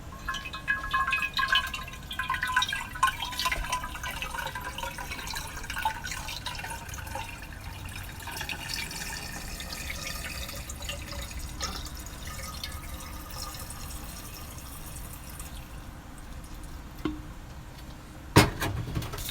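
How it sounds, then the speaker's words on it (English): Quiet, steady trickle of water pouring into a jar, with a few brief clinks and taps near the end. "now I'm just going to add in the water here"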